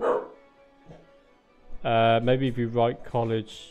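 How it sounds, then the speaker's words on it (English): A dog in a Cities: Skylines game barks in a short burst of loud, harmonic yelps. A voice talks quietly over it. "That was a dog, if you hadn't guessed."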